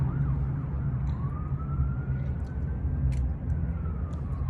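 A police or emergency vehicle siren wails in the distance, rising and falling tones carried over a low rumble of traffic, with a few faint clicks nearby.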